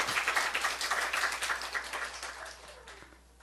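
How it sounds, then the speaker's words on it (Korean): A church congregation claps in praise during a Monday morning worship service in Seoul, a dense wash of hands that starts loud and full, then thins and fades out over a few seconds. "하나님께 영광의 박수"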